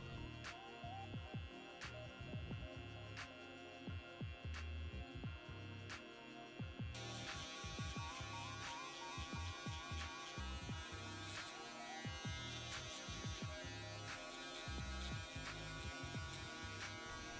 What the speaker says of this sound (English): following that up with our electric shavers to really get it down to the skin